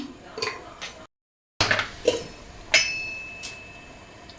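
A spoon clinks and scrapes against a pot while chicken with masala, turmeric and salt is stirred for a chicken gravy, a few distinct metallic knocks and rattles, close and clear, broken by a short silent gap.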